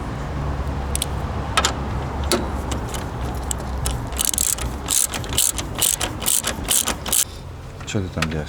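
Fastener being tightened during a Toyota Highlander radiator replacement: a run of sharp, rapid ratchet clicks and metallic rattles close by, with louder bursts in the middle, over faint background noise.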